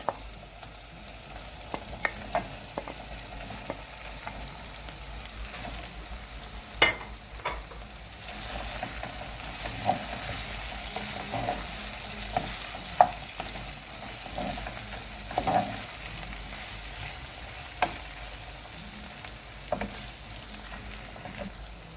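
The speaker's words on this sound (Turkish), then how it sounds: "Şimdi kızarttığımız patateslerimizi de ilave edelim." Meat and fried potatoes for shepherd's kavurma, seasoned with mountain thyme and black pepper, sizzle steadily in a pan, with repeated scraping stirs and occasional sharp utensil clicks over a soft frying hiss and no voices.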